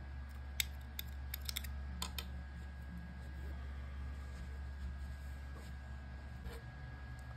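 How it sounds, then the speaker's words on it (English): Scissors cutting crochet yarn at the end of a plush axolotl piece, a few sharp snips in quick succession close by over a quiet steady room hum. "cut our yarn"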